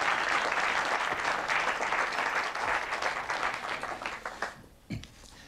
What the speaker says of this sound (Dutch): Mag ik een hartelijk applaus voor Lennart Nijg.